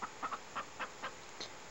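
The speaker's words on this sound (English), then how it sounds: "There's chickens here." Chickens cluck in short, quiet, evenly spaced bursts within the video game Rule of Rose, about six soft calls over a faint background hum.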